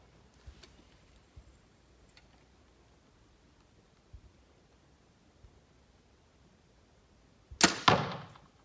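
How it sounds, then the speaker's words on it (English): An arrow shot from a 2019 Mathews Vertix bow strikes a target with a sharp, loud smack and a brief rattling decay, after a few faint soft taps and near silence. "the sound of the arrow hitting the target was probably louder than the bow going off"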